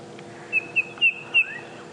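A wild bird's display call on an early-morning safari: four quick, clear whistled notes in an even series, nearby and fairly loud over a quiet background, with no talking.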